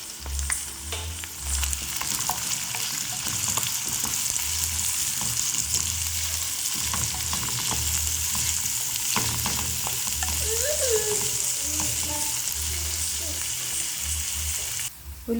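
Onions, curry leaves and seasoning spices fry in a pan for a ridge gourd and egg curry, with a steady loud sizzle and intermittent scraping stirs throughout.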